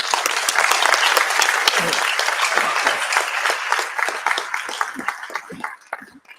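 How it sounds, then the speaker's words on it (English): A seated audience at a public transport talk gives the speakers a round of applause, loud and dense clapping that swells at first and then thins out and fades toward the end. "Please give all our speakers a round of applause."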